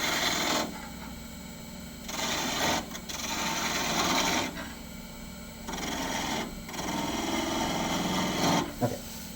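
Spindle gouge cutting wood on a lathe, heard as repeated scraping, rasping bursts of a few seconds each, separated by short pauses, close and moderately loud.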